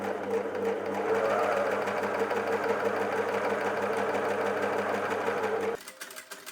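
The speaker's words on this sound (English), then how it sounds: "I'm just gonna finish it in an overlocker first, then fold it up by 1 centimeter and top stitch" An overlocker finishes the bottom hem edge of a sewn cami top, running in one steady, close, even whir for several seconds before cutting off abruptly near the end.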